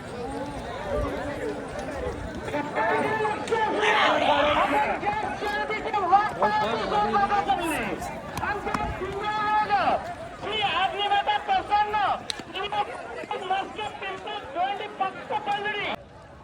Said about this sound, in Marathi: एकदम खतरनाक गर्दी आहे.